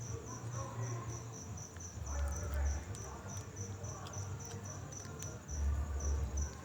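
Grasshopper chirping at night in a Brazilian setting, a steady, rapid, high-pitched insect trill that pulses continuously and sounds faint and close against a quiet low rumble.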